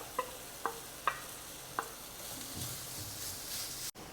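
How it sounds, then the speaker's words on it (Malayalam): Chopped onion and green chili hit a hot pan for cutlets, giving a steady hiss of frying with a few sharp clicks of a spoon against the pan, close by and without talk. "ഇനി നമുക്ക് ഇതിലേക്ക് സവാളയും പച്ചമുളകും കൂടെ അരിഞ്ഞു വെച്ചത് ചേർക്കാം"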